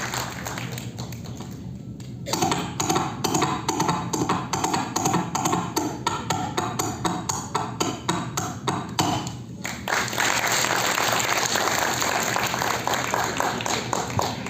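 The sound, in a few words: audience clapping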